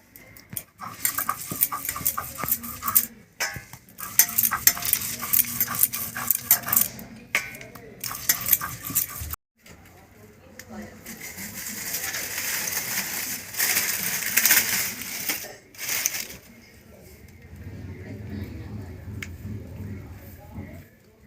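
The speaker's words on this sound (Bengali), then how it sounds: "মসুর ডালটা আমি বেটে নেব।" Masoor lentils being ground into a paste make close, rough scraping and clattering strokes in irregular bursts, with brief pauses and a steadier, softer stretch near the end.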